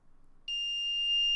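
An Arduino alarm clock's buzzer suddenly goes off after a quiet start, a loud steady high-pitched electronic tone that continues without a break.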